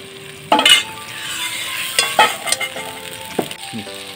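Meat dropped into hot spiced oil in a pan sets off a burst of sizzling and frying, with intermittent stirring scrapes and light clinks of a spoon against the pot.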